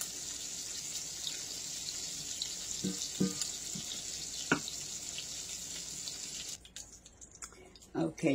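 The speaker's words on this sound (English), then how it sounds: "I have a few tablespoons of oil in the bottom of the skillet. So now I'm fixing to brown my chicken." Chicken pieces browning in a few tablespoons of oil in a skillet give a steady, soft sizzle throughout, with a few knocks and clatters of cookware near the end.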